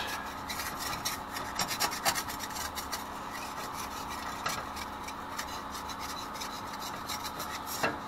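A wooden spatula scrapes burnt bacon residue off the bottom of a pan in a continuous rough scraping and rasping that stays close and steady, with no talk.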